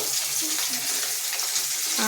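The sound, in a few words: fish frying in a pan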